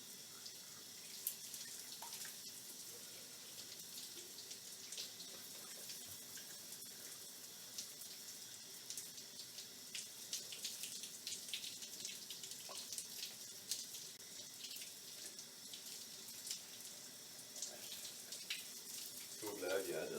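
A shower runs with a steady, faint hiss of spraying water that continues throughout, while a person talks at intervals in the background.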